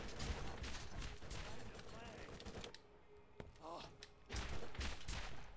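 Gunfire from Borderlands rattles in quick, dense bursts, with a brief lull in the middle before the shooting resumes, while a voice talks over it.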